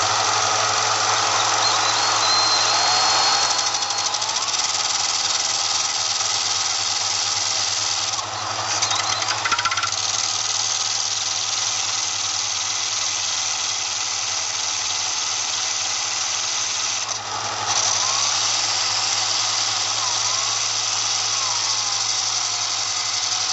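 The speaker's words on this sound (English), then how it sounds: "with my band sander, I simply start my sander in one direction, which it's going to be going down, and I'm going to use my drill in the other direction" Band sander and power drill running at once in opposite directions to shape a deer antler ring, a steady loud motor whine with a low hum throughout, briefly dipping twice.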